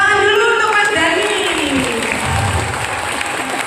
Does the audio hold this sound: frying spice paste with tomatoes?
no